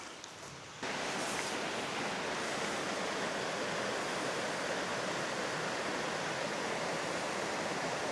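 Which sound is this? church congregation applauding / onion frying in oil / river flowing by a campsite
river flowing by a campsite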